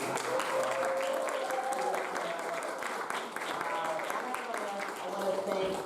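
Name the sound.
audience applause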